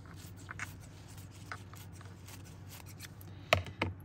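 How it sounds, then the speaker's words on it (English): Scissors snip through sheets of white tissue paper, with a few soft quiet cuts and then two sharper, louder snips near the end over a faint room hum. "we're gonna cut this in half, and we'll end up getting four sheets out of this."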